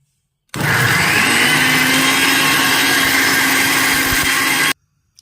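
A blender whirs at high speed, pureeing vegetables, steady and loud for about four seconds, starting and stopping abruptly, with no talking.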